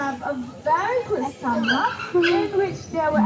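African painted dogs at Singapore Zoo give high whimpering yips and squeaky calls, close and continuous, mixed with people talking over them.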